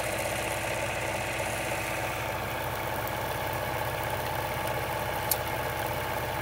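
An electric motor in a bucking-coil free energy setup runs with a steady, unbroken mechanical hum at a constant moderate level.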